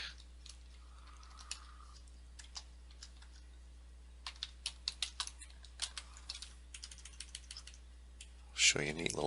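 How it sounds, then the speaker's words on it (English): Irregular bursts of computer keyboard typing, quick light key clicks coming in short runs near the mic over faint background hum, with a louder clatter at the very end. "then you would type some stuff"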